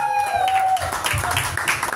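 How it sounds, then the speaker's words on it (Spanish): Audience applause breaks out at a mariachi quinceañera for fifteen-year-old Sofia. A sustained sung note fades into a steady, fairly loud wash of clapping that carries on to the end. "Abre ese aplauso"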